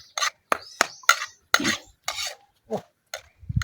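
Eggs with onion and water spinach, cooked outdoors in the sun's heat, are stirred with a metal utensil, producing sharp separate scrapes and clinks against the pan, close and fairly loud with short pauses between strokes.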